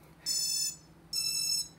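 Eachine 185 racing drone emitting two short, high electronic beeps after its battery is plugged in, each about half a second long, evenly spaced and clear over a faint low hum.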